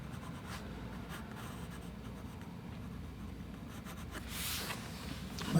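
An office pencil scratches steadily across paper in a beginner's seascape sketch, a soft continuous rasp of short strokes, fairly close and quiet, with no one talking.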